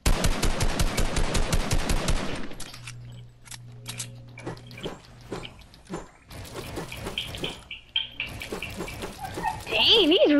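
Rapid bursts of video-game gunfire crackle loudly at the start, then give way to scattered shots, clicks and game effects, with voices talking over parts of it.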